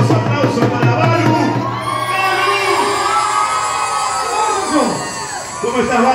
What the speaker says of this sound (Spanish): Señoras y señores, fuertes los aplausos para Balu.